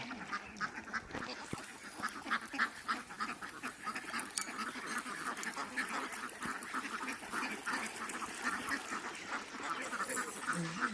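A flock of egg-laying ducks quacks continuously in overlapping, moderately loud bursts, with many birds calling at once close by.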